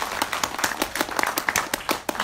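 Audience clapping for the Nepali film Mr. Virgin at an event, with sharp, irregular individual claps from a fairly small crowd, close and steady for a couple of seconds.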